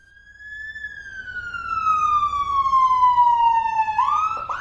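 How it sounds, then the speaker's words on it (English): A fire truck siren wails alone, rising in volume as it sweeps in a single long descending tone before jumping back up at the end. "the fire truck sirens can be pretty loud"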